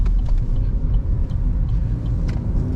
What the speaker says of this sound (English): you can hear this car. Listen, this car goes.